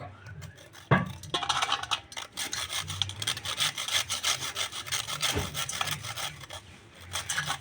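Biscuits being crushed by hand in a grinding machine, a close, gritty rubbing and scraping that repeats in uneven strokes, with a few knocks and no voices.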